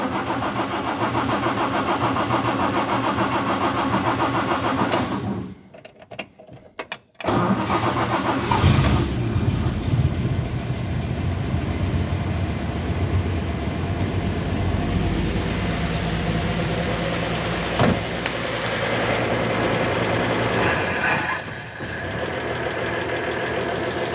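A 1949 Chevy engine, left sitting for 40 years with a gummed-up carburetor, cranks briefly, falls silent for a moment, then catches and runs at a steady, rough, loud idle close by.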